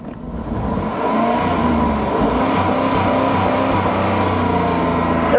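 A Dodge Durango engine held at high revs by a brick resting on the gas pedal, a loud steady droning roar that climbs briefly at the start and then sustains unchanged, close by.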